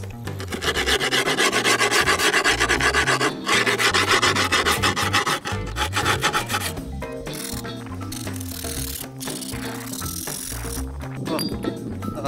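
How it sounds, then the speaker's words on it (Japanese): Continuous coarse rasping as a file works the edge of a wooden skateboard deck, with a steady rhythmic back-and-forth scrape that is loud and close throughout. "削っていきます。"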